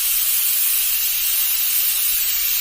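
A pressure cooker on the stove vents steam while cooking tomato rice, producing a loud, continuous, steady hiss that holds at the same level throughout, close to the microphone and with no talking.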